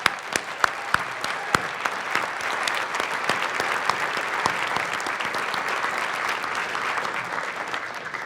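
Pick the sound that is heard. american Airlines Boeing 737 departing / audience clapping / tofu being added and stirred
audience clapping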